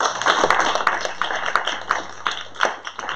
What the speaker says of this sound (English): one more round of applause for the Anacostia Playhouse for hosting